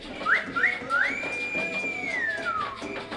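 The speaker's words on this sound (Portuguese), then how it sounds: "pôs-se a assobiar" A person whistles clear rising notes, two short chirps followed by a long sustained tone that slides downward, close and fairly loud.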